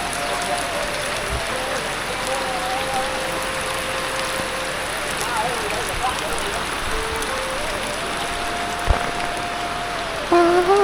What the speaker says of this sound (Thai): ฝนตกขนาดเลย